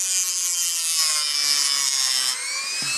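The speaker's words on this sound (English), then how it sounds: "I'm just trimming this off like," Trimming material off during a wheel swap on a Saleen S1 with lowered RE30 rims, heard as a close, steady rubbing and rasping sound. A short high squeak cuts in near the end.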